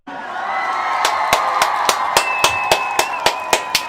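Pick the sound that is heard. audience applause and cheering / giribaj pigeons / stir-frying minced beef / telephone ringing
audience applause and cheering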